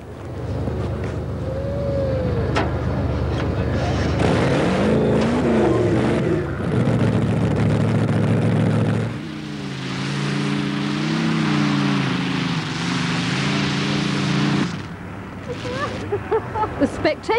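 A 1,000-horsepower tractor-pulling machine roars loudly and steadily, its engine note rising and falling through long revving passes with wind noise over the microphone, then cutting off abruptly near the end.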